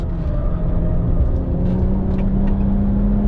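A BMW 1M with its N54 engine drones steadily on a race track, a loud close in-cabin engine hum holding a fairly constant pitch with a slight rise near the end.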